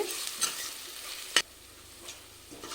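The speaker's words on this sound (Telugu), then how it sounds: "జింజర్ గార్లిక్ పేస్ట్ చక్కగా ఫ్రై అయింది" Ginger garlic paste fries in a pan with a steady, close sizzle, while a spoon stirs and scrapes through it in a few distinct strokes, with one sharp scrape standing out.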